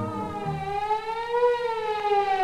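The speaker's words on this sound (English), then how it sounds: "old Fire Eater, the fire engine who had served the town for many years, blew his siren." A fire engine siren wails in long, smooth rising and falling tones, loud and sustained for the whole stretch with nothing else heard.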